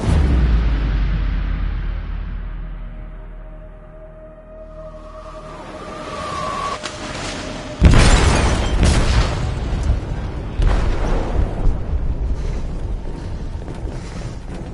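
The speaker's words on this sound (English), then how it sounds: "They detonated an explosive in the hold." A low rumbling drone gives way to a sudden heavy explosion in a ship's hold in Detroit Become Human, followed by a loud roaring, crackling aftermath that keeps going.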